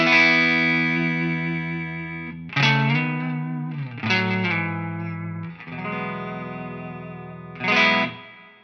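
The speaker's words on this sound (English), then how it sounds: "clean tone today is an exotic XSC2 plugged into a wonderful Rev D20 amplifier with a little bit of spring reverb from a Line 6 HX Effects" Clean-toned electric guitar, an XSC2 played through a Rev D20 amplifier with a touch of spring reverb, rings out in sustained chords, with a few fresh strums and a long ringing decay between them.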